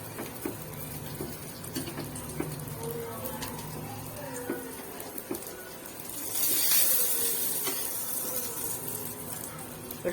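Mutton and potato cutlets fry in hot oil with a steady soft hiss, swelling into a brighter, louder sizzle partway through before settling back.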